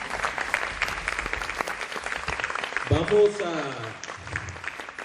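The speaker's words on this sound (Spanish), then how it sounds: "le pido a esta conferencia pues un aplauso para la exposición del presidente" Conference audience applauding a president's presentation at a Latin American energy forum, a steady wash of clapping that runs through the whole span while a voice speaks over it partway through.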